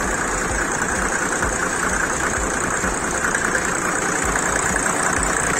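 A Mercedes 124 car engine idles steadily and evenly, a continuous low rumble with a smooth hum, close by and with no voices.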